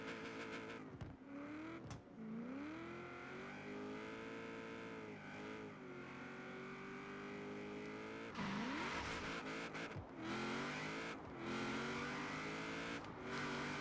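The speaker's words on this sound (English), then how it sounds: "I'm liking the engine. Sounds good. Definitely hear the supercharger in the background." A supercharged muscle car revs hard in Forza Horizon 4 drag racing, its engine note climbing and dropping through repeated gear changes with a steady supercharger whine beneath, loud and continuous throughout.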